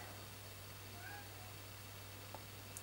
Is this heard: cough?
no